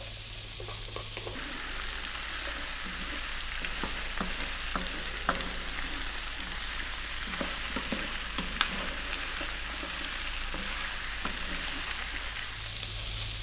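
Hard vegetables such as celery stir-fry over high heat for chow mein in a steady, dense sizzle, with scattered clicks and scrapes as they are kept moving, fairly close and without talk.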